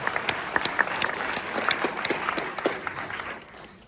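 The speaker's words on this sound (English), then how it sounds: "Give yourselves a round of applause for being here for this premiere." Audience applause at a film premiere, with scattered sharp claps over a steady wash of clapping, tapering off slightly toward the end.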